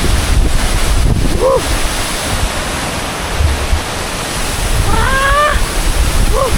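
Constant rushing water fills the scene at Tancak waterfall in Panti, Jember, a loud broadband roar, mixed with wind buffeting the microphone and a few faint chirps.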